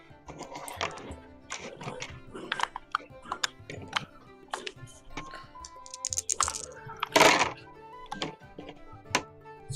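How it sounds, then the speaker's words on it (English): Dice tumble and clatter across a table during a tabletop role-playing session, a run of light plastic clicks and knocks spread through the clip, with one louder burst of rattling near the middle and faint background chatter. "Somebody's rolling dice."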